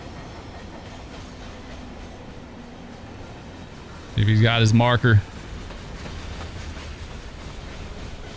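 A freight train rolls past in the Run 8 Train Simulator game on the Fitzgerald Sub, a steady rumble under a voice, with a loud, tonal horn-like blast about midway.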